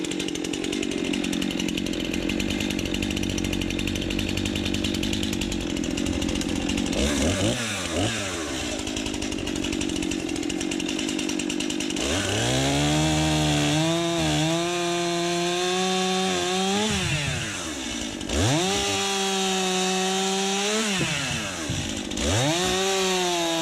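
A Stihl 261 chainsaw with a green Eastonmade Firewood Prosizer attachment cuts small, loose firewood, the engine droning steadily and then revving up and down in repeated loud cuts, close by with no talking.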